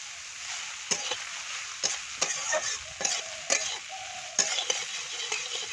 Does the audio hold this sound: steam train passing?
no